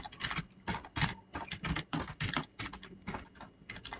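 Steady, close typing on a computer keyboard while writing C++ or Java code for a round robin scheduling algorithm: rapid bursts of key clicks with short pauses between them, and no voice.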